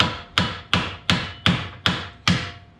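Seven sharp hammer taps, evenly spaced and close by, striking a vehicle steering spindle to free the ball joint, each hit ringing briefly before the next.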